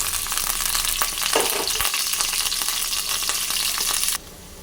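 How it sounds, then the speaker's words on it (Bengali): Paneer fries in hot white oil in a kadai, a loud, steady close sizzle with a spatula knock partway through, cutting off abruptly near the end; no one speaks. "তেলটা গরম হলে পনিরটা ভেজে নেব।"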